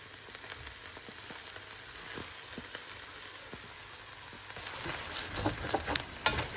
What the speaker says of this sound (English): I'm just gonna give it a little bit of stir, separate it, and then just toss in my noodles